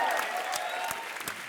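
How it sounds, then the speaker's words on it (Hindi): Studio audience applause rising on cue at a comedy show, steady dense clapping throughout with a few sharper claps poking through. "जोर से तालियां भाई।"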